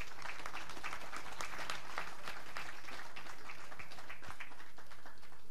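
Spectators at a women's 10m air rifle standing SH1 para shooting final applaud steadily, a dense wash of clapping heard at a moderate distance.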